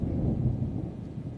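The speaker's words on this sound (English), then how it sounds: "I could hear the thunder" Thunder from an approaching storm rolls as a deep, low rumble that holds steady and fades slightly over a moment, with no talking.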